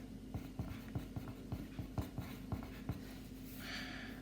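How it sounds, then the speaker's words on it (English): A pen writes a word on paper during a trigonometry lesson, giving a quick series of short, close scratchy strokes over a steady low hum, with no talking. "I'll write my word."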